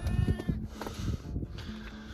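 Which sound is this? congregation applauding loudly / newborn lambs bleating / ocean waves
newborn lambs bleating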